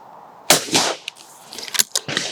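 A shotgun fires at a clay target outdoors, a sharp loud blast followed by a second report, then a few lighter clicks and clatter from the gun being handled, with no voices.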